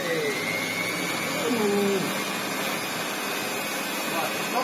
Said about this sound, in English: let's make it into a Hoover once more and see how well it hoovers